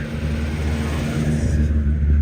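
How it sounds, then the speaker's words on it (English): An old car drives past on a suburban street near the Tama riverside in western Tokyo, its mid-pitched engine hum and tire noise swelling slightly as it nears, close and steady without talk. "That was a very old car."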